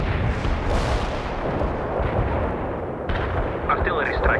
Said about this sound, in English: Deploy and lay down the heavy barrage.